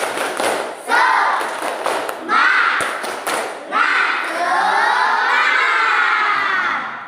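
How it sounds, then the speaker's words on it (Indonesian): A classroom of children doing a rhythmic clapping chant, loud and close, with bursts of claps and shouted voices building into sustained cheering. "Bapak minta satu kali tepuk semangat"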